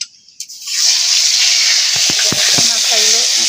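Fish heads hit hot oil, setting off a loud, steady sizzle that starts abruptly after a few soft knocks, with scattered pan clatter and spatter pops through the frying.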